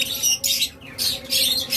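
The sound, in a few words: pet birds squawking (lovebirds, cockatiels, budgerigars)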